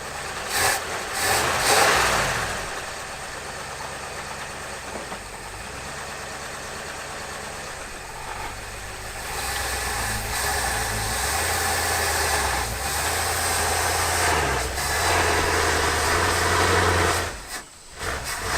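A 1979 Ford Bronco 4x4, abandoned for 18 years, strains to crawl out of a hole, its engine droning loudly and steadily with rising revs and a brief drop near the end.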